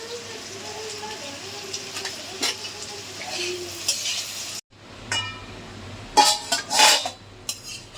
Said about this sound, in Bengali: এটা মশলা দিয়ে কষানো হয়ে গেছে।